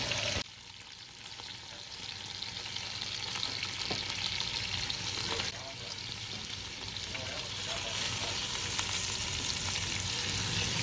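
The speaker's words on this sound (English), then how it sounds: "we'll put everything back in the pot, close it, and let it cook for a little bit" Chicken cacciatore cooks in a pot with a constant, close frying sizzle and occasional stirring clinks, steady for the whole stretch.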